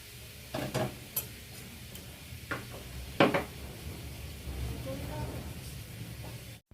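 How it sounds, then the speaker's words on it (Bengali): Vegetables frying in a pan for khichuri, a soft sizzle under scattered scrapes and knocks of a spoon stirring against the pan, fairly quiet and close. "সমস্ত সবজিগুলোই আমি ভেজে নেব"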